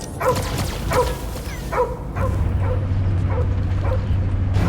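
A dog barks and yelps repeatedly, with short whimpering cries, in the Marvel's Guardians of the Galaxy video game, set in Knowhere; the sounds ride over a steady low rumble and hum of background game audio.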